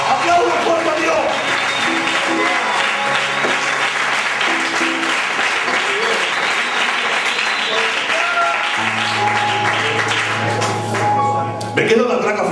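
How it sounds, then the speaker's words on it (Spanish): Congregation applauding loudly and steadily inside a church during a sermon, a dense sustained clapping that fills the room throughout, with a held musical tone or organ note underneath and a few voices mixed in. "¡Aplaude fuerte a Dios!"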